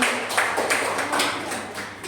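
A group of teachers at a training session in Binjai claps for two women called to the front, loud hand claps falling in a brisk, fairly regular rhythm, close and with no talking.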